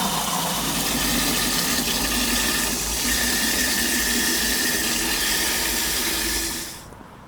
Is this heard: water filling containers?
yes